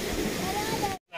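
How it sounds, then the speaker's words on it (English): Canonteign Falls waterfall in Devon, a steady broadband rush of falling water heard close and loud, briefly cutting out near the end before resuming, with a voice speaking over it. "We are now coming to the top of the waterfall."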